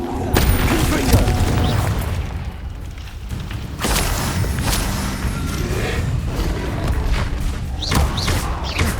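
Confringo fire spell explosions in the video game Hogwarts Legacy, booming and thudding blasts with whooshes, loud and dense throughout with a sharp burst near the start and another midway.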